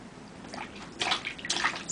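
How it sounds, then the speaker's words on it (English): A child splashes water in an outdoor pool on a sunny day, two close bursts of sloshing and spattering rising over a quieter trickling background. "Splash, splash, splash."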